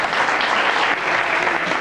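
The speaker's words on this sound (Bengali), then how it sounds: "একটু হাততালি দেবেন কাইন্ডলি।" An audience at a Pohela Baisakh celebration at a New York music school claps steadily and loudly, dense applause filling the whole short moment.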